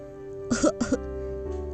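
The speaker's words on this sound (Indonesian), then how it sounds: "Suara batuk mengagetkan kami." Two quick coughs, fairly close and loud, separated by a brief pause, over a low steady hum.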